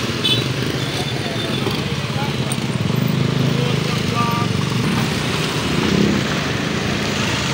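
Motorcycle engine idling and revving steadily as it crosses a slippery, damaged road by a railway crossing, loud and close, with traffic noise and people talking over it.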